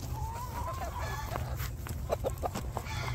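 Farm chickens waiting for treats, clucking and murmuring softly in a close group over a low rumbling background, with scattered short calls.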